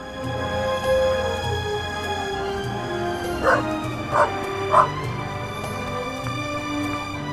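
A dog in the video game The Raven Remastered barks three times in quick succession, short sharp yelps over a steady droning musical background, moderately loud and close.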